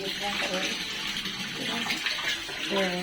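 Water pours steadily into a drum, a continuous splashing rush with voices talking briefly over it.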